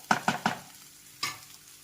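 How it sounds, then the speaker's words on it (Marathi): Spiced potato sandwich filling being mixed with lemon juice and coriander in a bowl, three quick clinking strikes of a spoon followed by a pause and one more, close and fairly quiet. "लिंबू आणि कोथिंबीर टाकून छान मिक्स करून घेऊया।"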